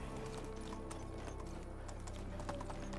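Horse hooves clip-clop in a rapid, steady rhythm in the medieval life game Medieval Dynasty, loud and continuous over a low background rumble.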